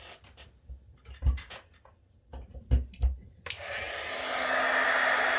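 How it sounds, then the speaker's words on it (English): Heat gun blowing over alcohol marker colour on vellum: after a few soft taps and rustles, a loud, steady whooshing roar of hot air starts abruptly and keeps going, close to the mic. "when you use a heat gun, it will blow the color around a little bit"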